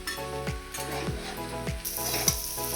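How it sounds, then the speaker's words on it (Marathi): Okra (lady finger) frying with curry leaves, garlic and chillies, crackling steadily in a pan while a spatula scrapes through it in regular strokes about every half second. "भेंडीमध्ये आपण जो कडीपत्ता लसूण टाकलेला आहे तो चांगल्या प्रकारे आपण फ्राय करून घेतलेला आहे"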